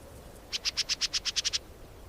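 A red-billed oxpecker gives a rapid series of about ten bright, high-pitched chirps in even rhythm, fairly close, over a quiet background hiss.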